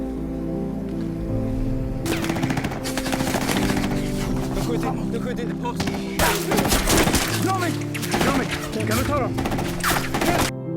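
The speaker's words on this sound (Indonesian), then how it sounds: "tembakan musuh gagal mengenai mereka" Enemy gunfire in a film scene on frozen sea ice crackles in loud, rapid bursts of shots mixed with sharp impacts, over a steady bed of dramatic music.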